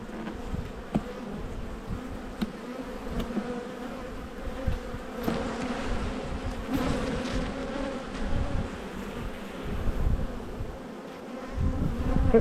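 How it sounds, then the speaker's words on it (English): Honeybees buzzing around an open hive three brood boxes deep, a steady dense droning hum close to the listener, swelling and easing throughout with no voices. "I don't mind these bees, but they can be a bit cross"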